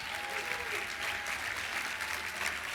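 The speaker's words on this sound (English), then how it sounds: "Give yourself a round of applause for that." A gala audience of some 850 people in a large room applauds, a dense, steady wash of clapping that holds evenly for several seconds, with faint crowd murmur underneath.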